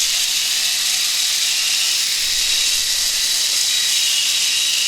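A homemade DIY concrete mixer, driven by a modest motor and partly filled, runs continuously with a steady, close hissing whir and faint mechanical rattle, with no voices.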